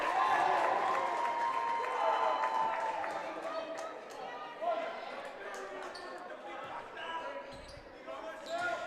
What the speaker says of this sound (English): he gets a big round of applause as he checks into the game